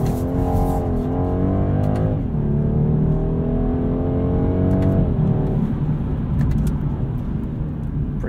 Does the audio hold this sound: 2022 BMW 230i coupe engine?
yes